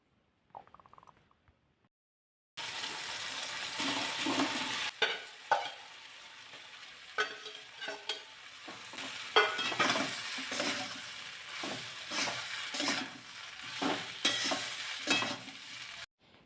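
After a couple of seconds of near silence, a leftover rice mixture with sambar masala and tomato sizzles in a pan, a steady frying hiss punctuated by repeated rhythmic stirring scrapes, close and even.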